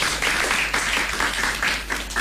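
Studio audience applause for a child guest on an Urdu children's radio show, a short steady burst of clapping with no voices over it.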